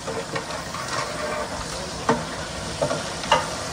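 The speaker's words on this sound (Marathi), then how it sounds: "बघा सर्व प्रकारचे मसाले आहेत ना याच्यामध्ये टाकलेले आहेत, तेलामध्ये टाकलंय" Mixed spices frying in hot oil give a steady close sizzle, with a few sharp clicks of stirring scattered through it and no talk.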